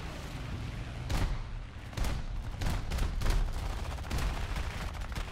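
Rapid bursts of aircraft cannon and 12 mm machine gun fire from a jet in War Thunder, sharp repeated volleys crackling loudly in irregular clusters.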